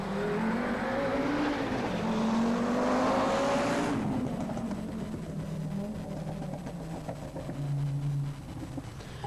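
An Audi Quattro rally car driven by Michèle Mouton during reconnaissance for the 1983 Monte Carlo Rally, engine note rising and falling under load as it passes close, then fading into a rougher distant drone.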